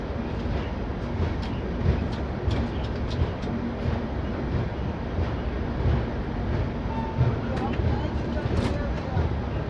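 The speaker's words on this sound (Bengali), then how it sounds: "খুব সুন্দর একটা বিকেলে ট্রেন ধীরে ধীরে জামালপুর জংশন এন্টার করছে" A passenger train slowly rolling into Jamalpur Junction station, a continuous low rumble of wheels and carriages with faint rail clicks, heard from on board at a steady moderate level.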